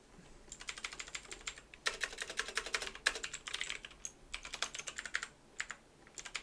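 Typing on a computer keyboard, quick close clicking keystrokes in bursts with short pauses between runs, no voices over it.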